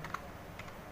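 A computer keyboard is tapped during stock entry in Tally ERP, a few soft, quick keystrokes in under a second, quiet and close.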